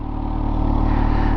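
A 2018 Kawasaki Ninja H2 SX SE supercharged sport-touring motorcycle idles up close with a loud, steady, even engine pulse and no voices.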